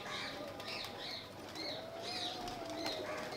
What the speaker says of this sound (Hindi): और ये वही 5 कबूतर हैं जो अभी तक बैठे हैं